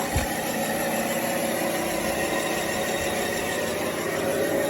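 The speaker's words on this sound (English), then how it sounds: "I'm doing full throttle right there, low gear." A radio-controlled HG P802 Oshkosh HEMTT truck with an upgraded brushless motor runs at full throttle in low gear, giving a steady, loud, continuous electric motor whine and drivetrain hum with no letup.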